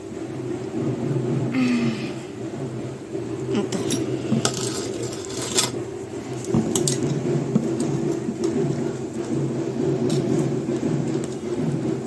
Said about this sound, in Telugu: పులుసు కూడా పిసికిపోయాలి.